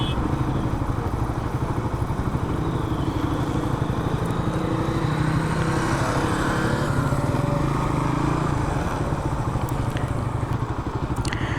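A group of motorcycles on a road from Khulna to Kuakata, a dense continuous engine rumble and drone that stays loud and steady, with faint voices underneath.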